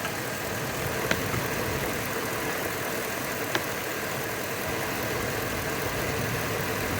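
A Mopar car engine runs steadily at idle, a continuous broadband rumble heard close with no talk, with two faint brief ticks standing out over the drone.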